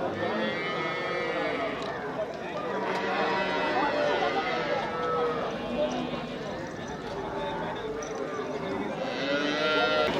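Cattle moo repeatedly at a busy livestock market in Melapalayam, the low calls rising and falling from several animals near and far, with people talking throughout.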